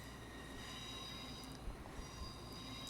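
A train runs in the Roblox train simulator Trainware Lab, giving a steady, quiet rolling rumble with faint wheel squeal and a couple of soft knocks, with no voices.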